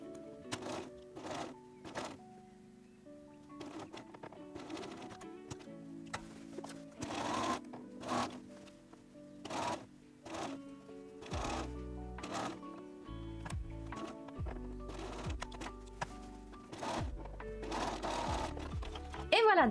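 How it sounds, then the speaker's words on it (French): A sewing machine stitches a pocket lining in repeated rapid mechanical bursts with short pauses in between, close and clear, while someone talks quietly between runs. "donc on a cousu notre fond de poche"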